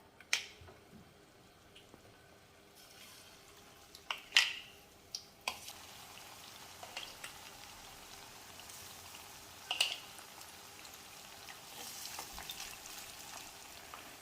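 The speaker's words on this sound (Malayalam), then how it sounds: "ഓയിൽ ചൂടായി അതിലേക്ക് ചിക്കൻ ഒന്ന് ഇട്ട് വറുത്തെടുക്കാം" Marinated chicken frying in hot sunflower oil, a soft continuous sizzle with scattered sharp pops and crackles, fairly quiet and close.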